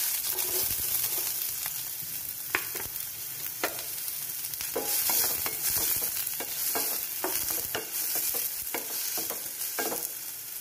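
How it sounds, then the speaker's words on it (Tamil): Onions fry in a little oil in a kadai, a continuous sizzle broken by repeated scraping stir strokes at a close, moderate level with no talk. "நம்ம இன்னொரு அடுப்பில் கடாயில் கொஞ்சமாக ஆயில் விட்டுருக்கோம். ஆயில் விட்டுட்டு அதில் ஆனியன் போட்டுக்கலாம்."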